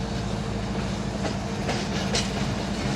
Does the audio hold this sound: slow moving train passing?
yes